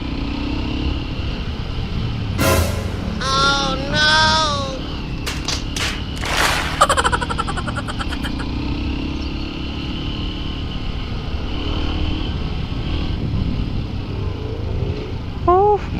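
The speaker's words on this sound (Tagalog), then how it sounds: "Mga tricycle to." Motorized tricycles passing on a road in Montalban, Rizal, a continuous engine rumble with a louder pass and thumps near the middle, heard from a moving vehicle while someone talks over it.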